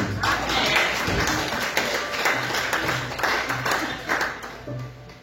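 A church congregation applauds the Spirit of God during a French-language worship service, a steady wash of clapping filling the space throughout, with voices and occasional rhythmic taps mixed in.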